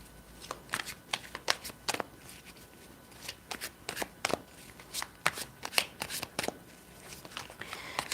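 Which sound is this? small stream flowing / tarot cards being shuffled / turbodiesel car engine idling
tarot cards being shuffled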